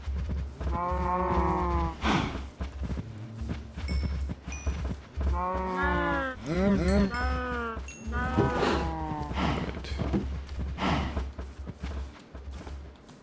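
Minecraft cows moo repeatedly in low, drawn-out calls, several overlapping bursts close by, set over a constant low hum of game background sound.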